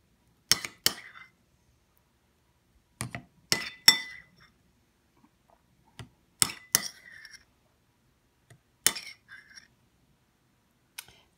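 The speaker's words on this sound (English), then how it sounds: "And then I'm going to spoon it into my container." A spoon clinks against a container while sweet and sour sauce for egg rolls is scooped in, giving sharp, scattered taps in small clusters with quiet gaps between.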